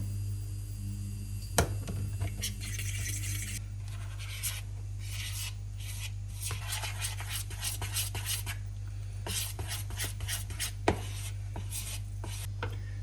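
Dumpling batter of double cream and flour mixed with a utensil in a bowl, soft repeated scraping and stirring strokes in uneven bursts with occasional sharper clicks, close and alone over a low steady hum.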